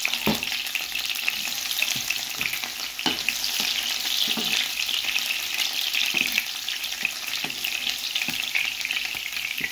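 Bell pepper frying in hot oil in a pot as the base of a tomato sauce for madesu with tripe, a loud close crackling sizzle punctuated by sharp stirring knocks.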